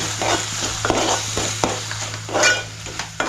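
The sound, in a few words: sautéing masala paste in hot oil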